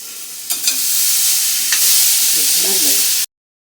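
Food sautéing in a pan, a steady broadband sizzle with a few sharp clicks of a spatula against the pan, loud and close, cutting off abruptly near the end.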